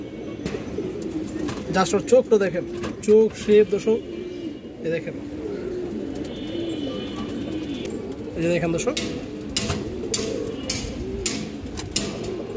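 Giribaz pigeons coo softly in a loft, low rolling calls repeating throughout, while someone talks over them close by.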